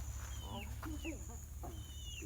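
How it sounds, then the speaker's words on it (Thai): Bantam chickens, a rooster and hen pair kept loose at a forest hut in Thailand, give faint clucks and short calls over a steady hum, with a few soft chirps scattered through. "ดูไก่แจ้ด้วยนะนี่"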